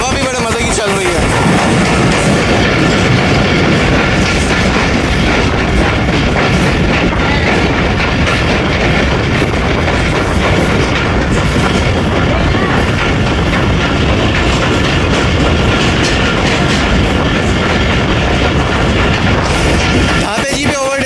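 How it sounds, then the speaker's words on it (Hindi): A passenger train overtakes a freight train on parallel tracks, a loud steady rumble of wheels and carriages with clickety-clack running continuously for about twenty seconds. "एक अदद फ्रेट ट्रेन को भी ओवरटेक किया जा रहा है जी"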